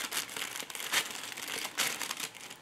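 Scissors snip and crinkle through fabric for a small dog jacket, a few short dry cutting and rustling bursts close by, with no talking.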